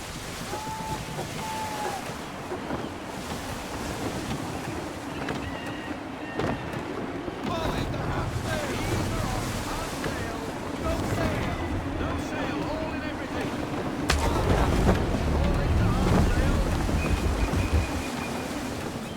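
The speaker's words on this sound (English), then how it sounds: "Wind looks to be shifting. Stay alert, Connor. Gusty winds can be difficult to manage." Gusty wind and ocean surf surround a sailing ship at sea in Assassin's Creed III, a steady broadband rush that swells louder near the end, with occasional creaks and thumps from the vessel beneath it.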